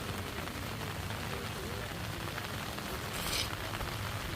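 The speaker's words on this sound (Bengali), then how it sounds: "বৃষ্টি একটু কমুক, অনেক বৃষ্টি।" Heavy rain pours at Barikka Tila by Tanguar Haor in Bangladesh, a dense, steady hiss that fills the whole stretch without pause.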